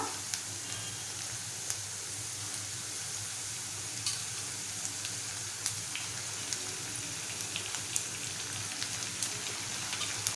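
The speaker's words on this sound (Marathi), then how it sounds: "आता जी वांगी आपण चिरून घेतले ती घालूया" Chopped brinjal fries in a pan, giving a dense, steady crackling sizzle with scattered sharp pops, close and even throughout, with no talk.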